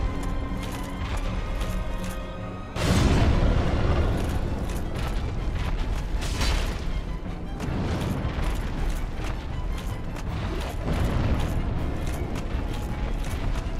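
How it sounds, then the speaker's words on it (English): Dark Souls Remastered combat with spell blasts: a sudden heavy booming burst cuts in after a quiet stretch, followed by continuous rumbling, crackling explosion noise with further swells, loud and close. "These are literally just the floating head explosions, except he can cast them."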